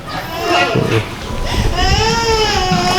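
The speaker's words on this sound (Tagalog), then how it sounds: "Dumating lang tayo, umiyak yung bata." A baby cries loudly and close by, with rising wails and whimpers that continue throughout as people talk nearby.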